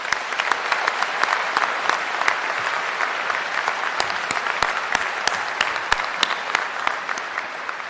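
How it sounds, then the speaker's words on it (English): Sustained applause from a large audience at a university health sciences commencement ceremony, a dense steady wash of clapping with sharper individual claps standing out, continuing evenly throughout. "Let's give everybody a round of applause."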